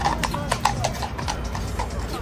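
Royal Guard horse hooves, a quick series of clip-clop strikes on pavement, close and fairly loud over steady outdoor background noise.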